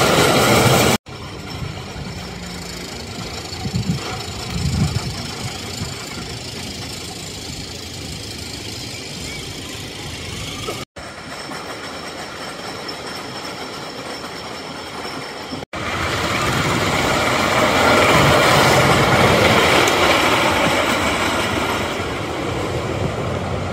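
A CCI wooden roller coaster at an amusement park in Maine, heard from on board as a loud, continuous rumble and clatter of the train on the track, growing louder and rougher near the end, with no talking.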